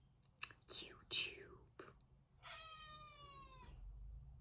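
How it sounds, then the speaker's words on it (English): A cat gives a single drawn-out meow in the middle of a room, preceded by a few soft breathy sounds or whispers, moderately close and fairly quiet. "You can't come in here swearing in cat language."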